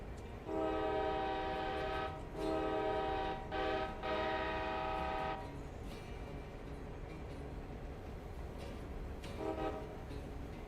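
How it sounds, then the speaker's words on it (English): A video game passenger train's horn sounds in long, loud blasts with short breaks, followed by steady rumbling rail noise and one brief final horn toot. "We are following the passenger train."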